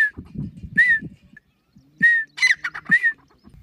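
Partridges calling in the jungle, several clear whistled notes in short bursts near the start and again after a pause, with low murmuring voices in the background.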